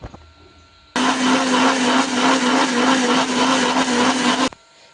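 Mixer grinder blending tomatoes in a home kitchen whirs loudly and steadily for about three and a half seconds, starting and stopping abruptly, close to the listener with no voices.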